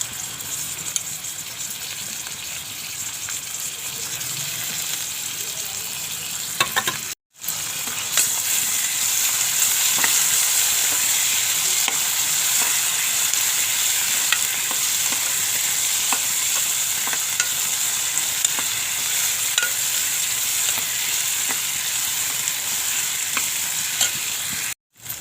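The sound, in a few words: onion frying in pan, tomato added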